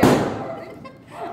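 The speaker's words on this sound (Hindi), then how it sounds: "पटाखे फोड़ रहे हैं सब हमारे घर गेट के सामने" During Diwali, a firecracker goes off in front of a house gate, a sharp, fairly close bang that fades into a rumbling tail while people talk nearby.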